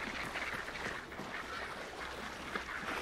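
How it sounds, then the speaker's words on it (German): Ducks quack repeatedly in the Hunt: Showdown game world, a steady cluster of nasal calls over continuous ambient background noise, moderately close. "Hier sind Enten."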